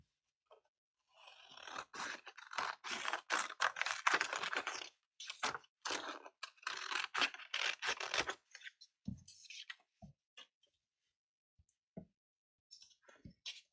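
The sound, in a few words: large scissors trimming paper floral templates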